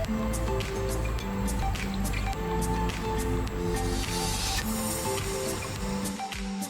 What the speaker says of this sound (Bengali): দিয়ে নিচ্ছি সরষের তেল